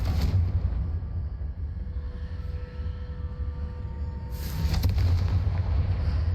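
A Confringo fire spell blast in Hogwarts Legacy, a loud booming burst at the start, a steady low rumble beneath, then a second forceful blast near the end, with no talking.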